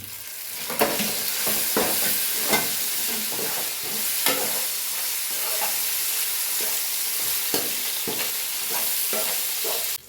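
Masala spices and fresh mint leaves for a chicken curry are stirred in a hot pan, a steady close sizzle broken by repeated scraping strokes of the spoon at an uneven rhythm.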